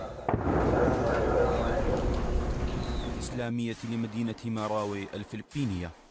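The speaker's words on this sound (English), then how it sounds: "Through the gunfire, you can hear loudspeakers broadcasting constantly" Dense, crackling bursts of gunfire roll continuously through city streets during the Marawi siege for a few seconds, then a loud voice speaks over scattered shots.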